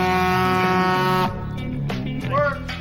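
Loud air horn blast from a semi-truck horn fitted to a custom trike chopper, a sustained harmonic blare for about a second before cutting off into engine rumble and voices.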